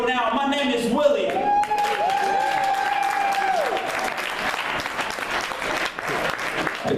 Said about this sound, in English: Give another round of applause, man.